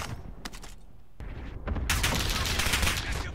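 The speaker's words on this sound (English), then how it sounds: "Who is shooting? Who is shooting me?" Rapid automatic gunfire from the Call of Duty Warzone video game, loud, dense bursts building into a sustained volley of shots.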